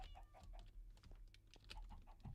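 Chickens clucking in the Minecraft video game, short repeated clucks in a quick uneven rhythm, faint and low in level, with light clicking underneath and no talk.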